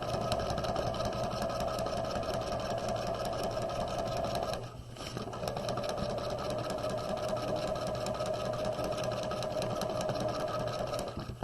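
A sewing machine runs steadily up close, stitching the elastic casing on a quarter-zip jacket sleeve with a fast, even mechanical whir, pausing briefly midway before carrying on.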